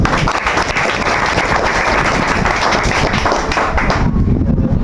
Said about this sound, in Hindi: इसके लिए एक बार जोरदार ताली।